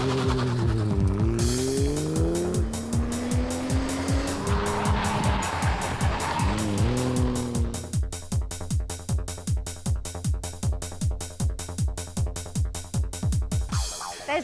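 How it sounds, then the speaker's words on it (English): A 500 horsepower Toyota Supra revs hard with a rising, falling engine note, then its tires squeal into a rapid rhythmic chatter of pulses, loud and close throughout. "a 500 horsepower Supra is kicking things off with a bang."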